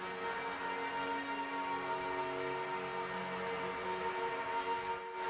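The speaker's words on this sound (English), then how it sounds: "You could probably get that just by droning a note and then throwing a boatload of distortion on it." Within a music production, a sustained droning note buried under heavy distortion holds steady and fairly quiet for about five seconds, a dense buzzing tone with no breaks and no voices.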